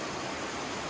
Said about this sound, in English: You can hear the stream in the background.